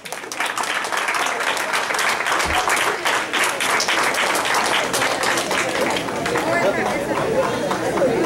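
A crowd at a 15th birthday celebration breaks into sustained applause: dense, loud clapping mixed with chatter and cheering that continues throughout.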